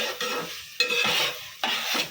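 Cauliflower is being stirred and fried in a gravy in a pan, three distinct scraping strokes of the spoon over a bubbling sizzle, close and clear with no talking.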